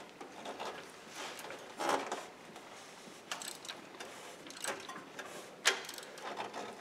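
A ratchet works half-inch bolts on the water pump of a Jeep Cherokee, giving irregular bursts of close metallic clicking with short pauses between strokes and no talking.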